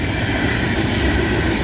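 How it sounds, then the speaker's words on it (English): Freight train of ethanol tank cars, part of a unit train on the FEC line near New Smyrna Beach, rolling past close by as a steady, loud broadband rumble of wheels and cars with no talk. "Those ethanol cars they mostly run in unit trains"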